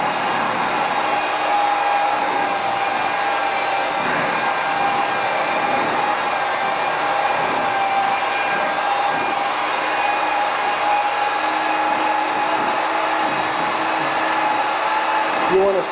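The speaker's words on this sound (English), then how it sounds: "moving the dispersion blade up and down in a turning type motion will start to loosen that coating" A dispersion blade churns hot pipe coating, moved up and down in a turning motion, giving a steady, loud mechanical whine with a constant pitched tone that runs unbroken for about sixteen seconds with no talking.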